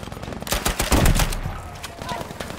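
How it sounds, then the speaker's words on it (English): Artillery barrage explosions in the video game Battlefield 5, a loud cluster of booming blasts and crackling impacts swelling through the middle of the moment, then fading into lighter battlefield rumble. "Artillery barrage sent to this location."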